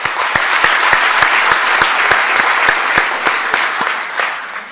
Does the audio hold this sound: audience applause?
yes